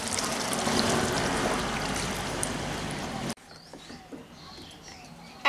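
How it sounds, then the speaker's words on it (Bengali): Two cups of water pour onto potatoes in a cooking pot with a continuous splashing rush for about three seconds that stops abruptly, followed by faint kitchen clatter. "এখন আমি আলুটা সিদ্ধ হওয়ার জন্য এর মধ্যে আমি জল দিয়ে দিলাম 2 কাপ।"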